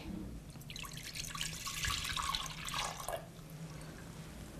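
Milk is poured into a cooking pot in a short liquid stream that splashes and gurgles for about three seconds, then tapers to quiet, heard close and alone.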